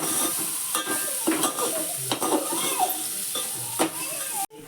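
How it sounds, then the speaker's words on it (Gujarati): Onions sautéing in a mustard seed and cumin tempering for khichdi, a close sizzle broken by repeated scraping strokes of a spoon against the pan, ending with a sharp clack. "રાઈ જીરાનો વઘાર કરીને જો ડુંગળી નાખી દીધી છે."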